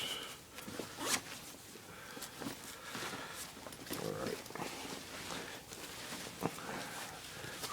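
A zipper on a camouflage army parka's slash pocket is pulled open in quick, scratchy bursts, close and fairly quiet, with faint rustling of fabric between strokes.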